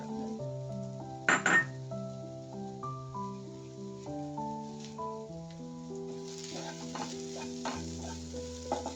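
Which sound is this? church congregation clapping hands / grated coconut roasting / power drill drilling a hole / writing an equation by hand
grated coconut roasting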